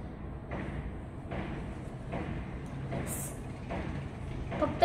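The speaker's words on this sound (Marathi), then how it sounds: "गाड्या वगैरे जातात आणि काही ना काहीतरी इथे काम सुरूच असतं" Street traffic passes below an open window, heard as a steady low rumble with broad swells of passing vehicles roughly every second and a brief sharp bump near the end, all moderately distant.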